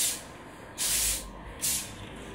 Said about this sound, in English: Then I'm just going to finish off with a little bit of the Baptiste hairspray